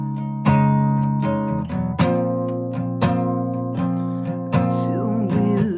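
Acoustic guitar strummed in a steady rhythm, chords ringing with sharp attacks about once a second, played close and clear with no voices.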